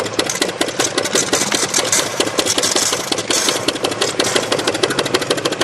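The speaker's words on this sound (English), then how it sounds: "Once the pump starts to click over this fast, you do want to shut the air off to it." A StreetPrint Rapid Sprayer II air-driven pump clicks over fast and loud as it runs empty, a rapid, steady mechanical chatter that continues without a break through the whole stretch.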